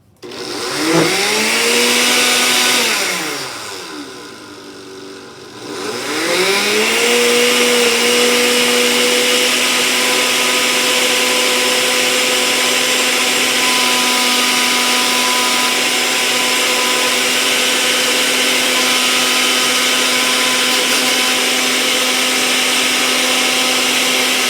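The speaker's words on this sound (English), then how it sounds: "we're going to put the top on the blender and then just pulverize it" A blender pulverizes a popsicle mixture in a loud, steady whirring motor roar that surges up, dips briefly as the speed drops, then ramps back and holds for a long continuous run, with no talking.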